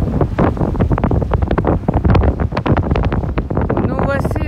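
Wind and sea swell roar around a sailing boat at sea off Sardinia near Castelsardo. Strong gusts buffet the microphone in a steady, loud wash, and someone speaks French over it.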